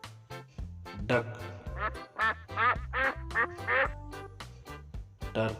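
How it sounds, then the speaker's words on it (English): A domestic farm duck quacks repeatedly in a rapid series of loud, nasal calls, close to the microphone, with brief low thumps between them. "duck,"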